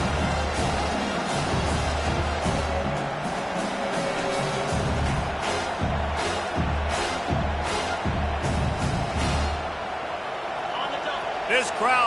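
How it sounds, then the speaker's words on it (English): A college football stadium crowd roars steadily throughout, a dense, loud wash of cheering and noise aimed at the offense, with a commentator's voice running over it. "This crowd trying to make life miserable for this offense."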